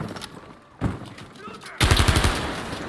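Gunfire in a competitive first-person shooter match, with a single sharp shot followed by a rapid burst of automatic fire, loud and close. Game sounds crackle around it.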